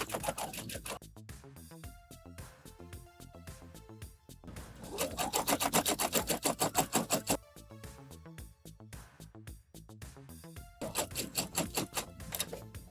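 A sewing machine runs stitches through silk organza in rapid mechanical bursts, with quieter stretches between louder, faster runs of stitching.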